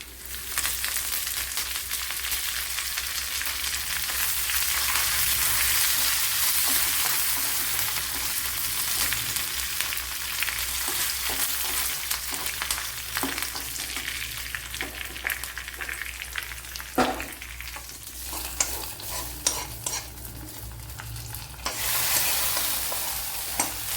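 Mustard seeds, chillies and curry leaves crackle and sizzle in a tablespoon of hot coconut oil for an okra curry, a loud, continuous frying hiss with stirring throughout and no talking.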